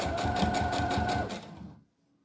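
A sewing machine attaches bias binding along the edge of a fabric brush roll, whirring in a quick steady rhythm with a high hum, then stopping abruptly into near silence.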